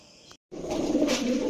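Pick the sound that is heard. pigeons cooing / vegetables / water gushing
pigeons cooing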